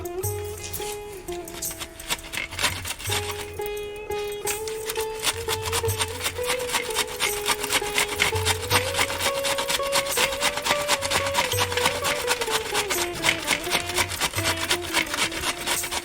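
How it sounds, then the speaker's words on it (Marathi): Cabbage is grated by hand on a metal grater, a loud, close, steady rasping with rapid back-and-forth strokes that continues throughout, while a tonal hum runs underneath. "पहा ही आपण कोबी आता किसून घेत आहोत"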